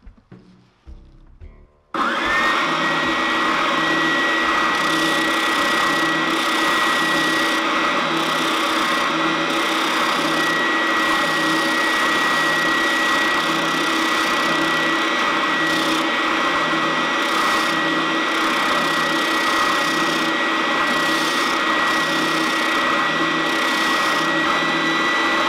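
A Triton TSPS 400 oscillating drum sander starts up after a brief quiet moment, then runs continuously with a steady, loud motor whine and broadband grinding hum for the rest of the time.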